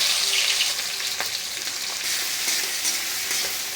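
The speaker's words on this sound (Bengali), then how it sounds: "পেঁয়াজ কুচিগুলো ভালো করে ভেজে নিতে হবে" Chopped onions fry in oil with black cumin (kalo jeera) for rui posto, a loud, dense, continuous hiss and crackle close by, with a few faint stirring scrapes and no voices.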